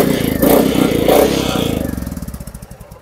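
A second-hand gunmetal Royal Enfield Bullet, about 3,558 km driven, runs with a loud, steady thumping engine close by. The beat settles into distinct slower pulses as it drops toward idle.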